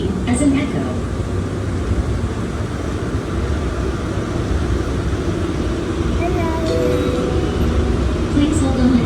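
An airport people-mover train runs between gates at the Atlanta airport, a steady rolling rumble with a rising electric whine toward the end, heard from inside the car under a continuous background of voices.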